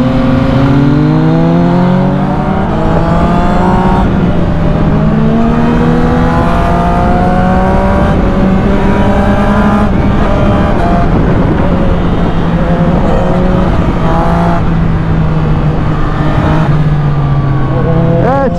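Car engine revving hard on the Passo della Cisa mountain road during a road race, a loud continuous drone that climbs and falls in pitch through gear changes, with the engine close throughout.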